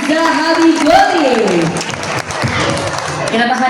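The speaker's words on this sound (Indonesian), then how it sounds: "Boleh kita berikan tepuk tangan yang meriah sekali lagi untuk Doni, Raihan, dan Zahabi Goli." An audience at an Indonesian talk show event applauds, and the clapping runs underneath a speaker's amplified voice.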